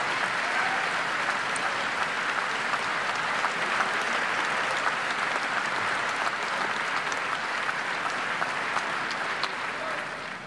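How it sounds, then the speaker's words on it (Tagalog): Sustained applause from congressmen and senators at a State of the Nation Address, dense steady clapping filling the chamber for the full stretch with no speech over it. "At palakpakan naman ng mga congressman at mga senador."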